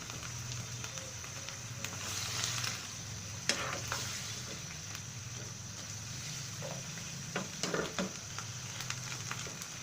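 Chinese vegetables stir-fry in a pan with a soft, continuous sizzle, broken by scattered clicks and scrapes of stirring, fairly quiet and close.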